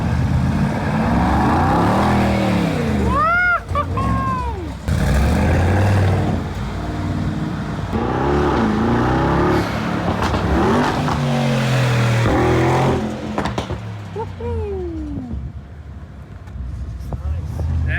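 A 2022 Mercedes G63 engine revs and roars in surges, rising and falling in pitch, with people talking excitedly over it throughout.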